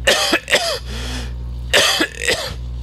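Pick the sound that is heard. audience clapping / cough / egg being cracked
cough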